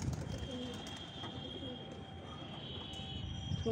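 Pigeons gathered nearby give low, murmuring coos, faint and steady beneath a constant background hum, with a soft bump near the end.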